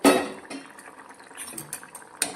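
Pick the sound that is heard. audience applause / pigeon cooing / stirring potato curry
stirring potato curry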